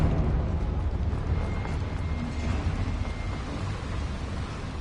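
In the Hogwarts Legacy video game, a Confringo spell explodes inside a mine as a heavy rumbling blast that rolls on and slowly fades, loud and booming, with no talk.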